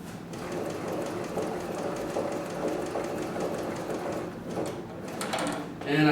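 A leather sewing machine stitches a box pattern around a workpiece with a fast, steady mechanical clatter. The stitching pauses briefly near the end, then a short burst of handling noise follows.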